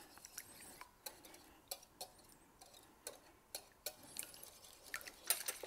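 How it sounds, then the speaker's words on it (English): Eggs being whisked in a bowl for steamed egg custard with minced pork, giving a quiet series of light, quick clicking taps of the whisk against the bowl, faint and close with no talking. "For the custard, the first thing we need to do is whisk our eggs together."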